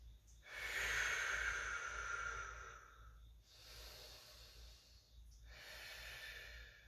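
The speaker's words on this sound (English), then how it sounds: "Big breath in, a little bit deeper." Deep breaths during a calf stretch, three long airy inhales and exhales close to the microphone, the first the loudest and the later two slightly softer, each separated by brief pauses.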